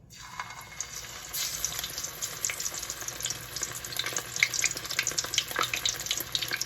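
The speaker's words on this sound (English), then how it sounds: "I'm gonna start frying." King fish frying in hot oil in a pot, a steady close crackling sizzle with small pops throughout.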